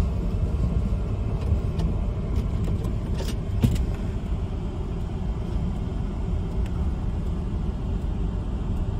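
A car driving on a road during a speed geo-fence test, heard from inside as a steady low engine and road rumble with a few faint rattles and clicks.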